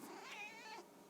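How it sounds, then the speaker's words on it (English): A pet cat meows close by in a quiet room, one drawn-out, wavering cry that rises and falls before trailing off. "It's my kitty."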